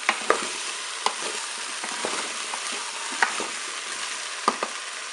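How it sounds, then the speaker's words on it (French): Tomato pieces and olives being stirred in a Cookeo multicooker, a steady hissing sizzle broken by a handful of crisp spoon clicks against the pot at irregular intervals, nearby and without speech. "Je vais ajouter les morceaux de tomates, les olives. On mélange tout ça."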